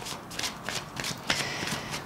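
Self-therapy cards being shuffled by hand, a quick run of soft papery riffles and flicks with small taps, close and quiet, no talk.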